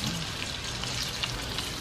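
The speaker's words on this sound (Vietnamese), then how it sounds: "Để chiên tàu hủ chiên giòn." Tofu deep-frying in hot oil until crispy, a steady dense crackling sizzle throughout, close and continuous.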